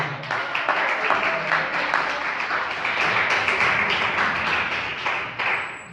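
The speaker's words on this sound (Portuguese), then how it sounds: "Palmas para Jesus." A church congregation claps in dense, slightly rhythmic applause. The clapping holds steady and fairly loud for several seconds, with no speech over it.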